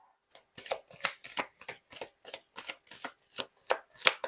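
Tarot cards being shuffled by hand: a rhythmic series of soft, papery riffles and taps, about a dozen quick even strokes heard close and fairly quiet, with no talking.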